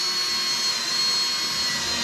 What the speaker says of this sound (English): all I'm going to do is take my little drill here